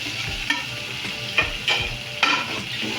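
Spices are stirred into chicken curry in a hot pan, giving a continuous close sizzle with a few distinct scraping strokes of the spoon against the pan, and no talking.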